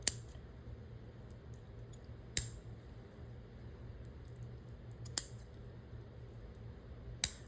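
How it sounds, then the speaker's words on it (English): Scissors trimming a lace paper tag, four crisp single snips spaced a couple of seconds apart, close and quiet over a faint steady background hum. "I am just gonna trim this across here."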